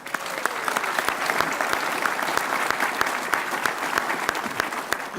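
Audience applause at a VFW national commander's congressional testimony, steady sustained clapping from a room of listeners, with sharp individual claps standing out above the wash throughout.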